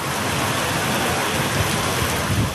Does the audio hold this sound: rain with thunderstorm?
yes